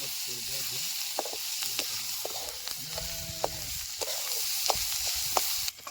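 Onion and dried fish fry in hot oil with a steady, soft crackling sizzle, punctuated by occasional sharp pops and the scrape of stirring throughout.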